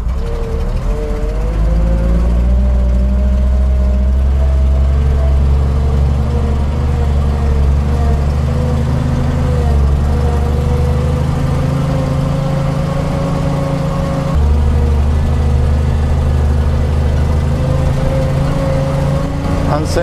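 A Volvo TP 21 military radio vehicle's engine runs loud and close, holding a steady low rumble as it pulls away in gear, with one brief dip in pitch partway through.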